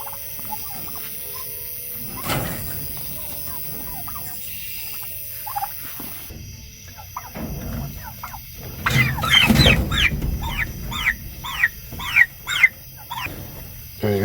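Turkeys and chickens call in the dark, with scattered low clucks and rustling at first. A burst of squealing and gobbling follows, then a run of sharp, repeated high calls close to the listener.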